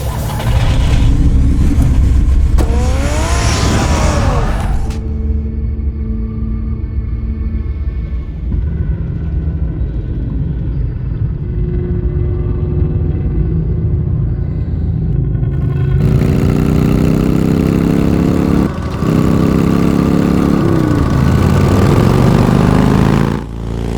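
Batman's car engine in the Telltale Batman video game, loud rumbling revs rising and falling, settling into a lower idle drone mid-clip before revving up again, with music-like tones layered over it.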